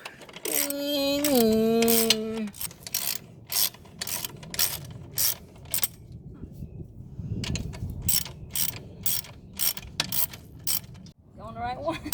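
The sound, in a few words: wrench turning a bolt while installing a motorcycle lowering kit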